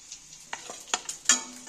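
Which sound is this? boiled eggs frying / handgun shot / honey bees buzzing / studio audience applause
boiled eggs frying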